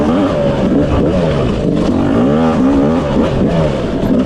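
A Yamaha YZ250 dirt bike engine revving loud and close, its pitch rising and falling in quick, wavering surges throughout with no pause.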